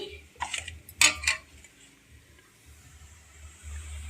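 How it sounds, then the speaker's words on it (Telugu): A spoon scrapes and clinks against a pot while rice flour batter is mixed for papad, a few sharp metallic knocks early on, then quieter stirring over a low background hum. "ఇందులో పోసుకుంటాం కలుపుకోవాలి బాగా కలుపుకోవాలి"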